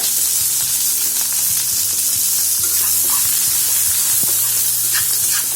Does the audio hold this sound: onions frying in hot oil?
yes